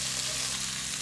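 Ginger, garlic and other ingredients sear in hot oil in a wok, a dense continuous sizzle with no breaks, close and steady for about a second.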